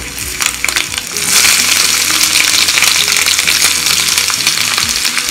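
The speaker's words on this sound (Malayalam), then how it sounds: "ഈ ചെറുള്ളി നന്നായിട്ടൊന്ന് മൊരിഞ്ഞ് വരണം കേട്ടോ." Small onions (shallots) frying in oil for a tomato curry, a loud, close sizzle that swells to a dense steady hiss after a second, with occasional metallic clinks from stirring and no speech.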